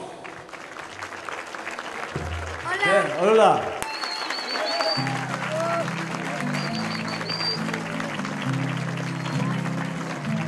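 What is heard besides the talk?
applause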